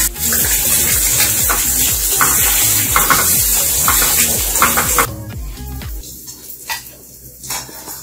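Egg frying in oil in a pan while cooking a spaghetti hotpot, a loud steady sizzle with stirring scrapes for about five seconds before it drops to a quieter crackle.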